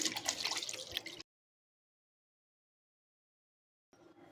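Water added to a mixer jar still coated with sooji and poha batter, a short close splash and trickle lasting about a second before abrupt silence, then a faint return of sound.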